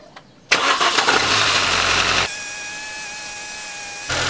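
A car engine, feared at risk of overheating with a failing head gasket, cranks and fires up with a loud burst, roars for a moment, then settles into a steady idle with a faint whine, alone and close.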